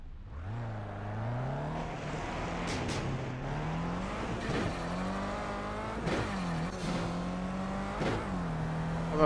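A KTM X-Bow race car engine in Project CARS revs and shifts through gears while drifting uphill, its pitch rising and dropping repeatedly with sharp gear-change bursts, loud and close.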